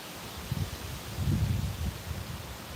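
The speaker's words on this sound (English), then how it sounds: "Ooh, hold on, there's wind." Wind blowing outdoors at a van parked outside, a soft low rumbling gust that swells and fades over a few seconds, with light rustling and no speech.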